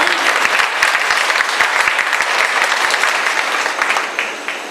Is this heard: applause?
yes